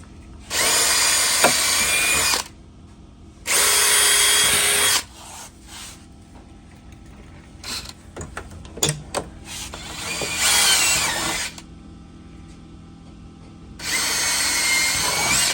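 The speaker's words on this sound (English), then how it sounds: "now you're going to take and drill them out with a 1/4-inch drill bit" A power drill with a 1/4-inch bit drills holes while lower doors are installed on a Honda Talon, whirring in four separate bursts of about two seconds each, loud and close, with clanks and handling noises between them.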